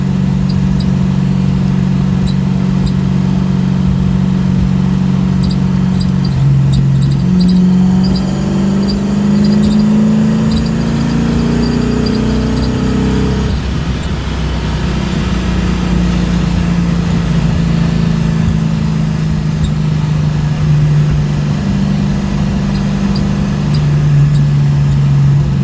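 Car engine fitted with Edelbrock Proflow4 fuel injection pulling hard in high gear, a loud steady drone whose pitch climbs and shifts, then settles and climbs again, heard from inside the car.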